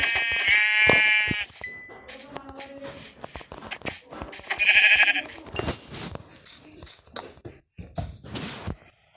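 Two loud, wavering sheep bleats from a video game stand out over shuffling footsteps and light clicks, close by with short pauses between.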